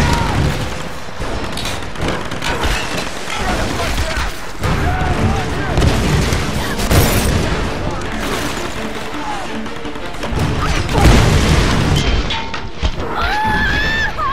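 Enemy gunfire rattles in bursts amid loud booms during a Tomb Raider firefight, dense and close, with game voices and shouting mixed throughout.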